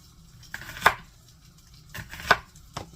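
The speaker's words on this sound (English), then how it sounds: "Now I'm going to chop up some onion." A knife chops onion on a board for bacon chili cheeseburgers: a few sharp, close chops spaced irregularly across a quiet kitchen background, with no talking.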